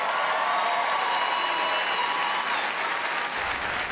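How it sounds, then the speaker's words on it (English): Studio audience at the 2017 Melbourne International Comedy Festival Gala applauding a comedian onto the stage, a steady, dense wash of clapping that fills the room and tapers slightly at the end. "Thanks for clapping when I came out."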